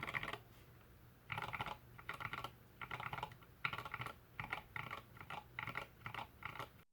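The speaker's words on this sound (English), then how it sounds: "if you like typing on high-profile keycaps" Fast typing on a keyboard fitted with Devlin K-Series Aurora high-profile keycaps, steady bursts of close keystrokes separated by short pauses, no talk.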